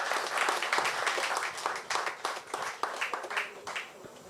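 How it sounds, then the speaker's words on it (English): Audience round of applause at a community tribute event for Kerwin Simmons, a moderate burst of clapping from a modest crowd that gradually thins and fades over a few seconds. "Could you give him a round of applause?"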